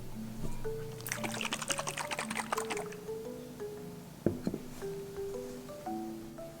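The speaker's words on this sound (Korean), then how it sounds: "골고루 한 번씩 잘 섞어주고 뚜껑 닫아서 마구 흔들어서 섞어줍니다" Rapid rattling and sloshing as salad dressing is shaken vigorously in a closed container, loud bursts over a few seconds with soft music underneath.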